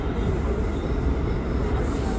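An NYC subway R179 E train rides the rails on the IND line, a loud steady rumble and wheel roar heard from inside the car, with no clear speech.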